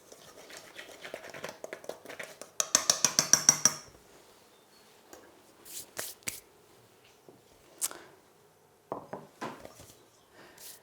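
Flour, baking powder and sugar stirred together in a bowl for bao bun dough, soft scraping and rapid clinking strokes in a short burst, then scattered light taps and rustles, quiet and close.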